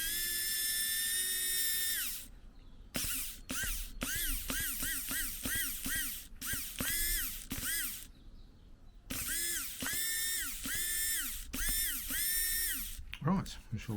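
A Ford Transit MK7 screen wash pump, revived by bashing it on the ground, whirs in a run of short, repeated bursts with a steady high whine, mostly alone and close up.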